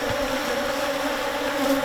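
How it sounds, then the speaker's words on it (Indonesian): A swarm of giant honey bees (Apis dorsata), wild forest bees, streams out of their nest, making a steady, dense, loud buzzing drone that carries on without a break and with no voices. "Apis dorsata populer dengan beberapa julukan seperti lebah raksasa, lebah hutan, tawon gung, atau oden adalah lebah madu yang hidup secara liar di dalam hutan."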